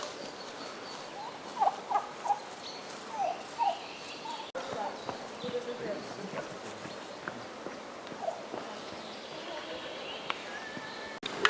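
Turkeys gobble in short bursts at a distance, mixed with outdoor background noise and some faint talking.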